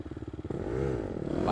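Gas Gas EX250F dirt bike engine at a harescramble race, first a rhythmic low sputtering turnover, then catching into a loud steady idle that rises near the end.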